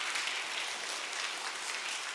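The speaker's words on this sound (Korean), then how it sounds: "환영의 박수 드리겠습니다" A church congregation at a Korean Presbyterian Sunday service claps in welcome for first-time visitors, a steady dense applause filling the room without pause and with no voices over it.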